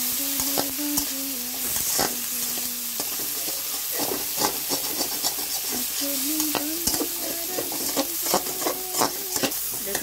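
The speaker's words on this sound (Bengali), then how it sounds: "পেঁয়াজ মরিচের মধ্যে বেগুন গুলো দিয়ে দিলাম, বেগুন ভাজা গুলো" Brinjal pieces fry in a pan with onion and chili, giving a steady, close sizzle broken by frequent clacks of stirring throughout.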